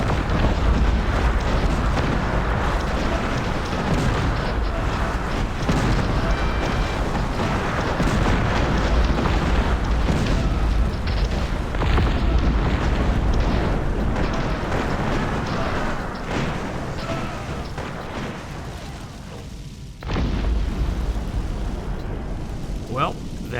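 Bombing explosions in the real-time strategy game Cossacks: Back To War, dense rumbling booms and bursts rolling continuously beneath someone talking throughout.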